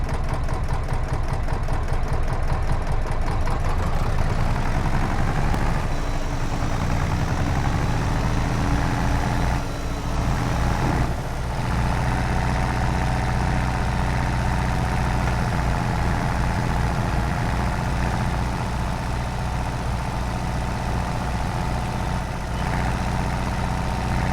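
A large tractor engine in Farming Simulator 22 runs steadily at a loud, continuous drone, idling and pulling with a constant low rumble and no pauses.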